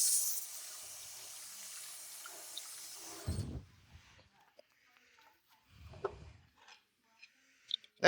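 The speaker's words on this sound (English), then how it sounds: "Rinse my hands off real quick." Hands are rinsed under running water at a faucet, a steady hiss of flowing water that stops abruptly, followed by a few faint drips and clunks in near silence.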